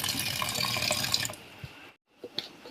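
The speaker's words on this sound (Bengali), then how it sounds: "আলুগুলো প্রথমে ধুয়ে নেবো" Water runs and splashes over cut potatoes being rinsed in a kitchen sink, a steady near wash that stops abruptly, followed by a few faint drips and knocks.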